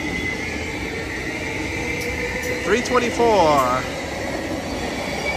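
A Caltrain Stadler EMU electric train at Santa Clara station, a steady rumble with brief metallic wheel squeals and a short rising whine, while someone speaks briefly over it.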